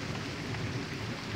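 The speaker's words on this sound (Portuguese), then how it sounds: "Eu tô aqui debaixo de chuva" Steady rain falls outdoors during a thunderstorm over a cornfield, a dense, even hiss of drops close by with no voices.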